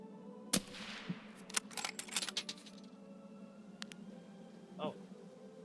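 Gunfire from an Escape from Tarkov match: a sharp shot near the start, a quick cluster of rapid reports in the middle and a softer one later, set against a steady hum with a tonal sweep near the end.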